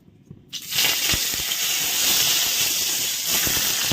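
Bay leaves and dried chilies drop into hot oil: a sudden loud sizzle bursts out after a quiet moment and holds as a steady, close hissing fry with a few faint crackles.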